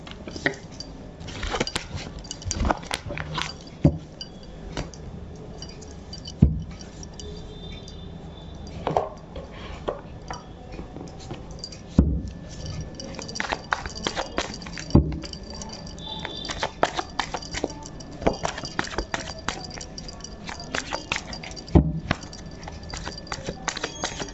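Tarot cards being shuffled by hand, a long run of close, crisp riffling and slapping bursts with irregular rhythm and occasional louder snaps as the deck is cut and restacked.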